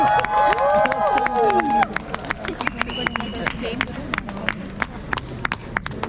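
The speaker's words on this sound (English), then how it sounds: "Can we give the Lota and the Cookie tribe a huge round of applause?" Audience clapping for tribal dance performers at the Hornbill Festival, a burst of applause over crowd hubbub, with a sustained tone up front that cuts off partway and a scattered, fading patter of claps afterward.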